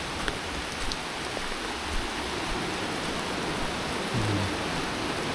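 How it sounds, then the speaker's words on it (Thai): Steady rain hisses evenly throughout at a waterfall, a dense wash of falling water with no voices. "แต่ น่าเสียดายมากเลยวันนี้ฝนมันลง ฝนมันดันตกไปซะก่อนนะครับ"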